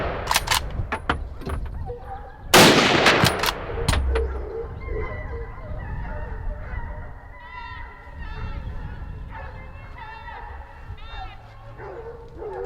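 A single loud, sharp gunshot at a driven wild boar beside an old estate wall cracks out amid yipping, whimpering hounds, with someone narrating over the dogs before and after.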